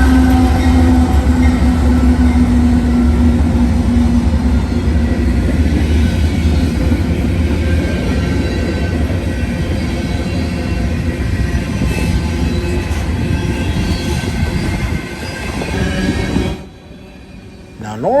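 Norfolk Southern freight train NS 178, led by NS-944 CW with a Union Pacific AC44 locomotive, rolls past close by with a loud, sustained rumble, clattering cars and squealing wheels before fading.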